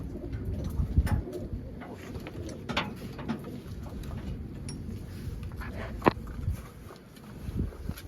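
Pigeons coo softly in an enclosed loft, low murmuring calls with occasional wing flutters and faint knocks against a quiet background.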